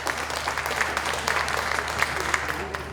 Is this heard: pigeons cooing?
no